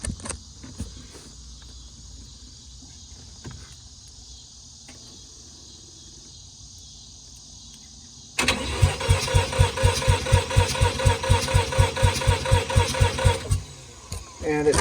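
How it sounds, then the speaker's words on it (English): A Mazda RX-7 left sitting in a shed for years cranks without starting. A loud, rhythmic starter churn with evenly pulsing compressions runs for about five seconds after a quieter stretch of crickets and a faint hum. "And it sort of just cranks."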